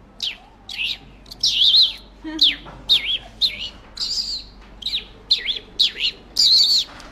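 A man imitates a sparrow's chirping with his voice, producing a rapid series of about a dozen short, high, sharp chirps, close and fairly loud, with no other talk.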